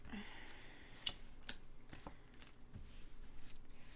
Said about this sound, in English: So I'm gonna shuffle again and put them kind of in order.